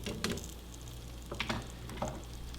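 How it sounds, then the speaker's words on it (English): Plant-based sausages cook in a pan with vegan butter, giving a soft, steady sizzle broken by a few short scrapes and pops, close and quiet with no talking. "so now we just threw the sausages in the pan. We put some vegan butter to cook it with."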